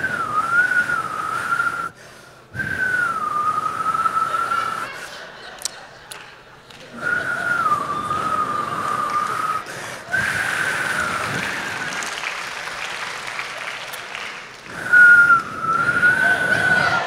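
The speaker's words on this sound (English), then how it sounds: "you're about to see my wife whistle" A woman whistles loudly in long, high sustained tones with short gaps between phrases, close and piercing, with a little background chatter and movement in the pauses.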